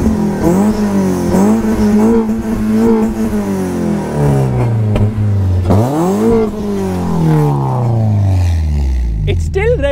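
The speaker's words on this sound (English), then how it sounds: "It's still revving." A car engine revs hard and repeatedly, its loud pitch sweeping up and down through several throttle blips with a steady roar beneath.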